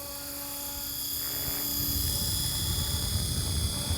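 A small model helicopter hovers in wind with a steady high whine and buzzing rotor drone that swells gradually louder, no talk.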